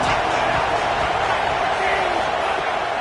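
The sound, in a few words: football stadium crowd cheering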